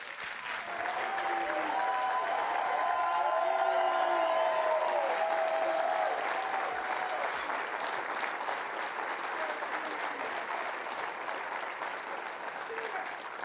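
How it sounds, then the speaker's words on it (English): A conference audience claps steadily for Frank Sinito at a 2017 annual gathering, a broad, sustained round of applause heard from some distance, with a few faint tones and murmurs under the clapping. "Thank you for the round of applause"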